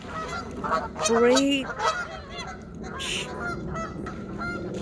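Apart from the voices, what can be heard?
geese honking at a lake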